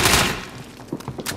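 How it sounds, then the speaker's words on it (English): A flashbang grenade goes off in a first-person shooter game with a loud, broad burst at the start that fades over a second, followed by a few softer thuds and clatters. "Flashbang going out."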